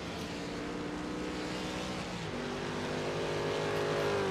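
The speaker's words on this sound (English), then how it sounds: "litre V8 going flat out on the banking of Daytona" A V8 race car running flat out on the Daytona banking in iRacing, a steady loud engine drone with the pitch rising slightly as it pulls through a gear.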